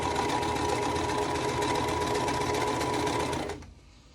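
A sewing machine runs a steady, fast, close stitching burst along a quilt block seam, humming evenly for about three and a half seconds before stopping.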